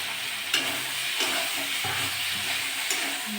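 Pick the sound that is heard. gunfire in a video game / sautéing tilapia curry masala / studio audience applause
sautéing tilapia curry masala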